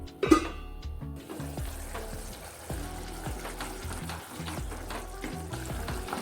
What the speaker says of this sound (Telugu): ఇప్పుడు నేను మూత పెట్టేసి ఈ గుజ్జును బాగా ఉడికిస్తాను